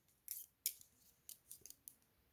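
Scissors snip through knitting yarn during a five-needle sock project, several short crisp cuts spaced unevenly, quiet and close with no talking.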